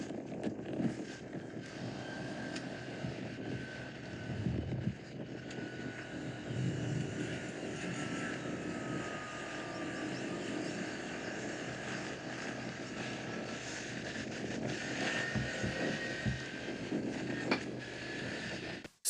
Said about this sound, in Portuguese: E só escute o barulho que esses caminhões elétricos fazem.